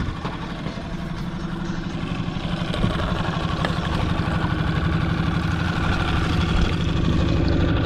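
A sailboat's small motor running steadily nearby, a constant throbbing chug with a slight rise in loudness toward the end, no voices.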